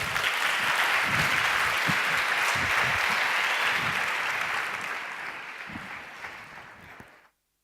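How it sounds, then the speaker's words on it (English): Warm audience applause at a weekend arts and technology gathering welcomes a virtual speaker, a full, continuous clapping crowd that stays strong for several seconds and then fades out near the end. "please join me in welcoming her with a bigger round of applause"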